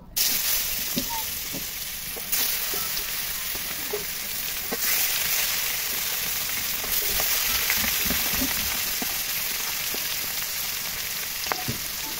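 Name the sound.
frying fresh fish in a pan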